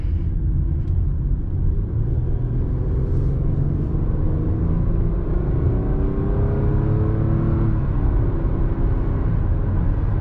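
A 2007 Toyota Camry SE V6 on a night drive accelerates with a smooth, steady engine drone that climbs gradually in pitch, layered over constant road and tire rumble heard from inside the cabin, with no talking.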